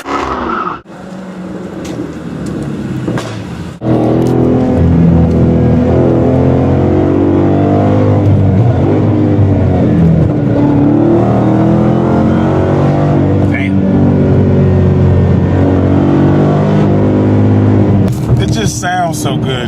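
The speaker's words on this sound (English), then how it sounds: "the sound of that dual exhaust, man, with all that horsepower just leaking out the back is crazy" A manual Dodge Hellcat accelerates hard, its dual exhaust roaring loud and close in a sustained, deep, rumbling blast with swelling pitch, after a brief quieter start; voices come through faintly at moments.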